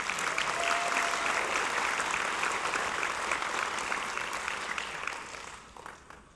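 Crowd applauding most improved students at a fifth grade graduation, dense sustained clapping that fades out toward the end.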